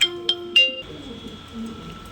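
Pigeons at a pigeon market, including almond-coloured fancy birds, give three short calls in quick succession before a quieter stretch of soft, low cooing and murmuring.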